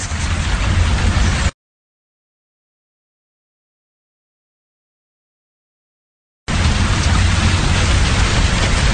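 Heavy nighttime rain pours in a dense, steady roar, loud and close, cutting out abruptly into silence for several seconds before returning just as strong.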